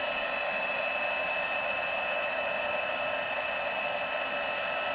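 An embossing heat gun, used on a handmade Christmas card, blows with a constant, even, hissing whir from start to finish, with no talk over it.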